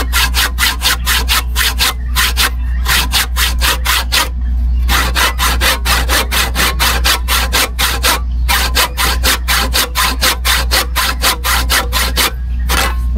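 A hand saw cuts wood in steady, rapid back-and-forth strokes, with a rasping rhythm broken by two brief pauses before sawing resumes.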